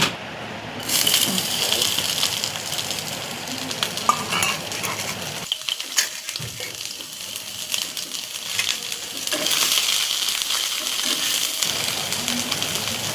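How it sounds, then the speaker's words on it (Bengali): Onion and chilli frying in a little mustard oil in a wok on a gas flame, a steady hiss and sizzle with scraping stirs and clinks of a spatula, briefly dropping quieter midway before the sizzle swells again. "পেঁয়াজ লঙ্কা দিয়ে ভালো করে ভেজে নিচ্ছি"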